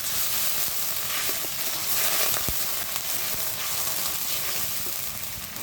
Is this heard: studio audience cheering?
no